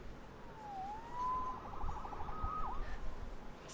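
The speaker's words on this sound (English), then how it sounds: "Saved by the siren." A wailing police siren in the video game Marvel's Spider-Man rises and falls a few times over low rumbling background noise, moderately faint and somewhat distant.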